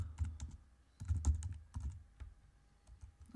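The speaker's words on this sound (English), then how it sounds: "Command J on the keyboard is going to duplicate that layer for us" Computer keyboard keys pressed for a Photoshop shortcut, a few close, quiet clicks and taps in irregular bursts with pauses between them.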